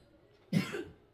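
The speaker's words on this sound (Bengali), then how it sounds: "সোনার কাশিটা না আর কমছে না" A child gives a single short, sharp cough, close and fairly loud, that trails off quickly into quiet.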